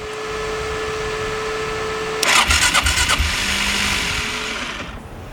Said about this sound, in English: Ooh, that sounds like starter clutch.